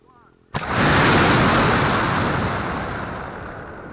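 Two-stage water rocket launching on its first flight, heard from the onboard camera: a sudden loud whoosh of thrust and rushing air that holds steady, then slowly fades into wind buffeting, with no voices.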